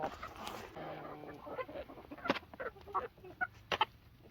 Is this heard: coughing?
no